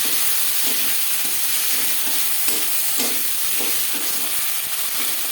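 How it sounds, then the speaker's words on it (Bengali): Chopped onion and tomato fry in hot oil with bay leaf and five-spice for a Bengali fish curry, giving a steady close sizzle with soft stirring scrapes and no talk. "দশ পনেরো সেকেন্ড ভেজে নেওয়ার পর দিয়ে দেবো পেঁয়াজ কুচি"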